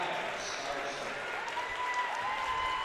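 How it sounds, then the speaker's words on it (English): Home fans at a girls' high school basketball game applaud, giving a steady, distant wash of clapping that holds evenly throughout. "The Yellow Jackets, starting 5 and bench, getting a nice round of applause from the home fans."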